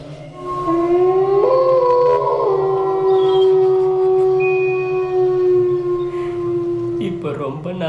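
A dog's long, drawn-out howl with wavering pitch that rises and then holds steady for several seconds, fairly loud and close, ending in a brief rough vocal burst.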